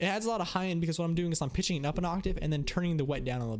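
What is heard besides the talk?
None of the usual background noises is heard.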